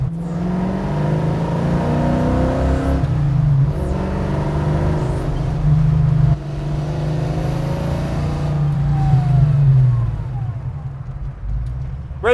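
Custom Pontiac GTO pro-touring car with a loud engine under way while cornering, a continuous deep drone with gentle rises and falls in pitch as the throttle shifts, heard from inside the car without talk.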